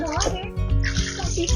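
Baby splashing and moving in warm bath water while floating in an Otteroo neck float, choppy sloshes and splashes close by, mixed with ongoing adult talk and a voice.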